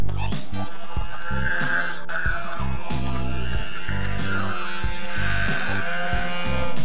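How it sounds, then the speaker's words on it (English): A blender purees cooked potato and tomatoes into a smooth mix, a loud, steady motor whir with shifting pitch and bursts of churning as the contents swirl, continuous and close. "now I'm going to blend it into a smooth puree"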